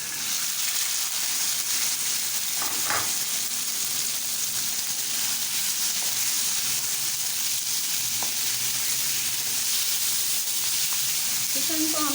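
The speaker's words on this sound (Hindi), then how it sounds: "एक पैन में 2 चम्मच ऑयल के गरम करेंगे और इसमें लहसुन अदरक का पेस्ट फ्राई करेंगे हल्का सा, और साथ ही इसमें चिकन ऐड करेंगे।" Garlic ginger paste and chicken frying in two spoons of hot oil in a pan, giving a steady, loud, continuous sizzle throughout with a few faint clinks and stirring scrapes.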